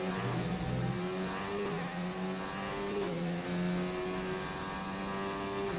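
Formula 1 race car engines in a PS4 racing game at the Austrian circuit, a steady high-pitched whine with pitch climbing and dropping through gear changes, loud and continuous with no talk.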